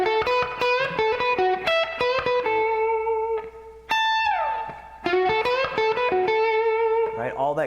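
An electric guitar plays a blues lick with sweet, sustained tones: plucked notes, bends and a sliding descending phrase, with short pauses between phrases and no speech.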